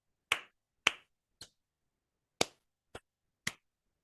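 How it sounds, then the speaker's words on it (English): Six sharp hand claps sound alone in a quiet room at uneven intervals, some notably louder and others softer, each a crisp close-up smack with a short decay. "as if you're merging with the sound of clapping your hands"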